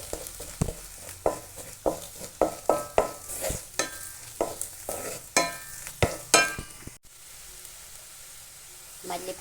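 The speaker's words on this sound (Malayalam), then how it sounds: "സവാള നന്നായി ഇളക്കി കൊടുക്കണം, അടുക്കി പിടിക്കാതെ കരിഞ്ഞു പോകരുത്." Onions frying in a pan for a Kerala kadala (chickpea) curry, stirred with a spoon in a steady rhythm of scraping strokes over a soft sizzle, close and moderately loud, ending in a brief quiet pause.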